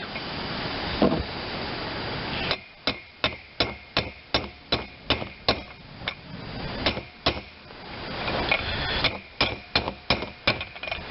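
Ratcheting socket wrench working a fastener on a Geo Metro rear drum brake, a run of about a dozen sharp, evenly spaced clicks close by, with a short pause and then another burst of rapid clicks.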